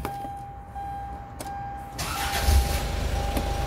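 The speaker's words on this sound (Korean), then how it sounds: "자, 시동을 걸어 봤습니다." A car engine is cranked and starts up, the engine noise rising and holding as a steady idle that grows louder toward the end; the car is being checked after it suddenly stalled while driving.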